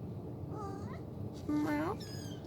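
One-month-old kittens give several thin, rising meows, soft and nearby, spaced apart against a low, steady indoor background.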